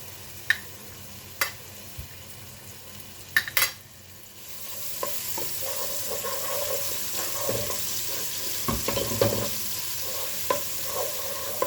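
Onion and ginger frying in oil for spaghetti, with a few sharp utensil taps first, then a steady close sizzle as the pan is stirred with scraping strokes.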